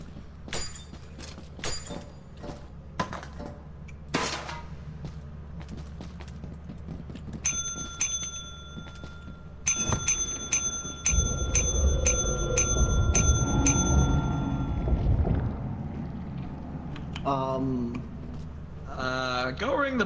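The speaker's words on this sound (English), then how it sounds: "Go ring the bell a few more times," Bell in the video game Lethal Company rung repeatedly, a rapid series of bright, clear dings in a burst mid-stretch among scattered clicks and rumbling game noise, with players talking at times.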